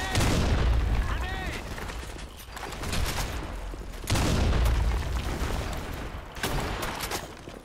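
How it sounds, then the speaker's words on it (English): Repeated grenade blasts in a video game, heavy booming explosions bursting at intervals amid gunfire, with voices calling out over the action. "Fire in the hole. Grenade."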